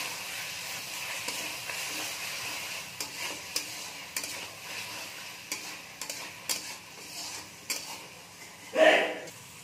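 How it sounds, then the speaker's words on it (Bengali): Chicken curry with garam masala is stirred in a pan for chicken paturi, with repeated scraping and clinking of a spoon against metal over a soft sizzle, ending in a louder knock. "এবার আমরা এটাকে খুব ভালো করে নেড়ে নেব।"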